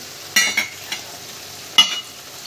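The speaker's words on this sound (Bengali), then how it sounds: "জলটা দিয়ে দিই, গরম জল, এই যে ফোটানো জল আছে" Hot boiled water splashes into a pan of sizzling chicken kosha in a few short bursts, each followed by a loud hiss and sputter, then a quieter steady simmer between them.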